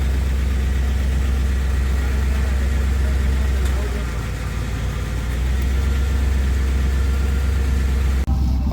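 A 1986 El Camino show car with a misfire runs while being driven, its engine giving off a loud, steady low rumble that holds throughout and dips briefly near the middle.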